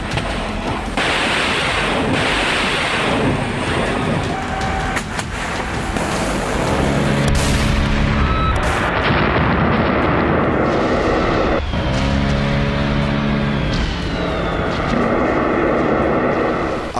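Iranian missiles strike Israel as air defenses fire: a loud, continuous roaring rumble with heavy booms and blasts, broken by rising, wavering tonal swells, with no voices.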